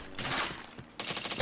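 Rapid gunfire bursts crackle in the PointBlank shooter game, two quick clusters of shots at moderate level with a brief gap between them.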